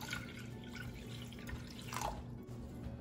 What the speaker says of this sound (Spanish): vamos a poner la mitad de nuestra agua